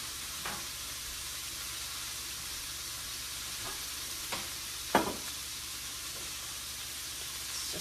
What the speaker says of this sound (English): cook the spinach, really just wilting it